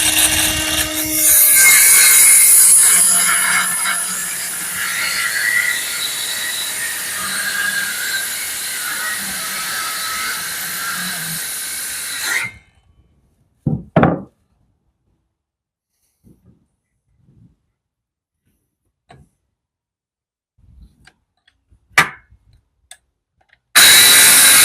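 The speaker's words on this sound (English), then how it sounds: "take my circular and I make the the notch out part" A circular saw whines loudly and close as it cuts a notch in wood during a shed roof build, running for about twelve seconds before stopping, followed by a few scattered knocks and clunks.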